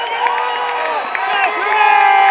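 Home crowd at a Los Banos high school football game against Escalon cheering and shouting steadily throughout, a continuous roar of voices with some whoops, with no single voice standing out.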